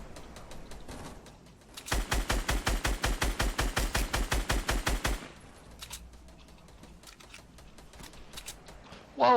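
A SCAR rifle in a battle royale shooter fires a fast, evenly spaced automatic burst of about twenty loud, close shots lasting roughly three seconds, with quieter scattered game sounds before and after.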